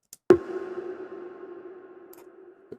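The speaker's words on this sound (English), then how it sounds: "Short blip sound." A single short synthesized blip strikes sharply, then its tonal reverb tail hangs and slowly fades over a couple of seconds, alone and clean.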